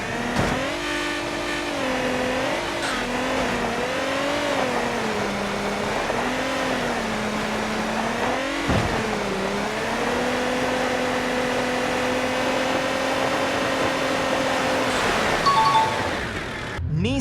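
GMC Cyclone engine in BeamNG.drive, a steady droning engine tone that rises and dips with throttle changes, a sharp shift or jolt midway, then a sustained hum and a final rev flare near the end, alone.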